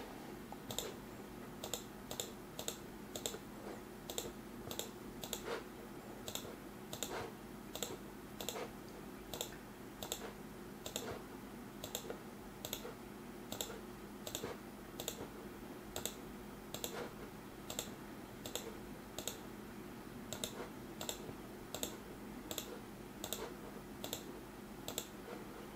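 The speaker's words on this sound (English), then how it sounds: "So all you do is basically click on anything that pops up" Gamemax Strike 6D gaming mouse buttons clicked steadily, crisp faint clicks repeating roughly every second throughout, close up over a low background hum.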